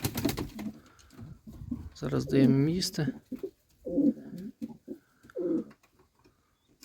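Pigeons coo in low, throaty bursts nearby, several separate calls spaced apart, with someone speaking briefly at the start.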